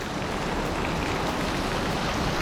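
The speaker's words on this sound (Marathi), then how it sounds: "पाऊस बघा किती आहे" Heavy monsoon rain pours in Palghar, a steady, dense hiss of drops on surfaces, loud and close, continuous throughout with no voices.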